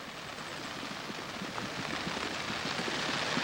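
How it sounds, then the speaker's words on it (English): Rain falls steadily on an open golf course during a final round of the Australian Open, a dense even hiss that slowly grows a little louder, with no voices heard. "You see the rain coming down."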